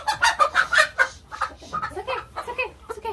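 Barred Rock chickens cluck and squawk nearby in a rapid run of short, bright calls that later turn into softer, scattered clucks, with faint voices in the background.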